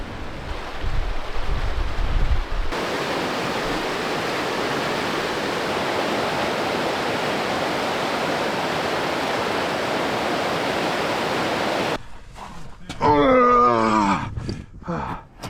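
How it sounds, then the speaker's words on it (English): A rushing creek pours steadily beside a portage trail near a big flat slanted rock, a loud broadband wash of water that fills most of the stretch before ending abruptly into a brief burst of other sound. "There's a rushing creek here with a big flat slanted rock on one side."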